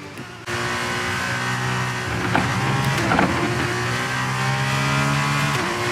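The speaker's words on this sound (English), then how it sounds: "the F2 car sounds fantastic" An F2 race car engine in a racing video game at Zandvoort drones steadily with layered harmonic tones and a slight rising pitch, holding a constant loud level for several seconds after a brief quieter start.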